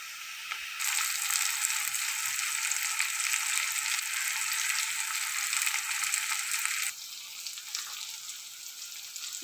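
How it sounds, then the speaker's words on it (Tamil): Chopped onion with ginger garlic paste, tomato, green chilli and curry leaves sautéing in a pan for prawn roast, giving a loud, steady sizzling hiss that drops to a softer sizzle near the end, with no talking. "பெரிய உள்ளி வதக்கிட்டே இருக்குது பாருங்கள்."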